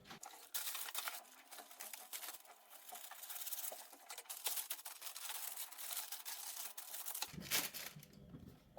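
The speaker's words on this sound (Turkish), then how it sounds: "Ben fırın kağıdı kullanacağım." Baking paper crinkles and rustles as it is spread over an oven tray for baked potato fries, with dense close crackling for about seven seconds and a louder crumple near the end.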